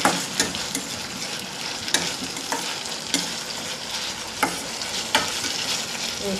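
Potato curry with ginger garlic paste sizzles in a pan while being stirred, a steady frying hiss with regular spoon scrapes and taps about once a second, close and alone.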